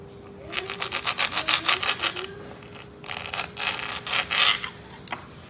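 Knife slicing through a keto California sushi roll, a run of short rhythmic rasping strokes up close, then a pause and a second burst of sawing cuts, with no talking.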